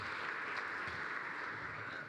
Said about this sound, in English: Let's give Jeff a round of applause.